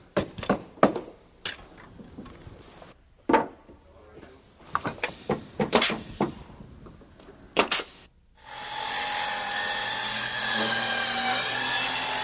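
Workers build a low wooden deck, with scattered knocks and scrapes of lumber being handled and sawed, then a sustained power-tool whine in the final seconds, fairly close with faint talk.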